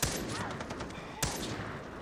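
Gunfire in the video game Far Cry 3, a couple of sharp shots cracking out over a busy game soundscape, with a distinct report near the start and another about a second later.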